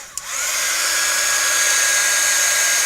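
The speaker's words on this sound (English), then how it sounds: "I just got my heat gun" Heat gun drying a crepe filter paper flower: a click, then the motor spins up into a steady, loud high-pitched whine that holds to the end.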